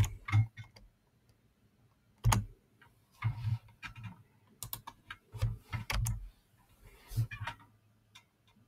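Keys clacking on a computer keyboard in bursts of quick typing with short pauses between words, close and clear, no talk over it.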